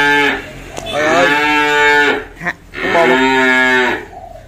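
3B beef cattle (Blue Belgian type) in a pen at a cattle farm in Vietnam give two loud, close, drawn-out moos with a brief pause between them.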